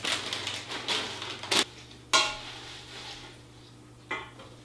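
Mixed greens are stirred into a homemade dressing in a bowl, with soft rustling and a few sharp clinks of the utensil against the dish, close and fairly quiet.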